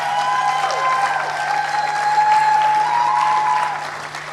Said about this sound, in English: Let's give a round of applause to Judy Kibinge.